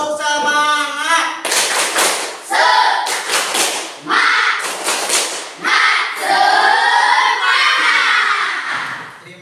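Students standing in a classroom perform a rhythmic 'tepuk semangat' spirit clap, with loud, close bursts of patterned clapping interleaved with the group chanting together in unison.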